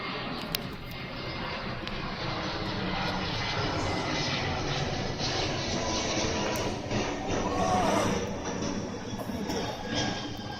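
A fixed-wing airplane passes overhead outdoors on a street, its steady broadband engine roar filling the whole stretch and swelling slightly toward the end, with a few faint clicks and knocks nearby.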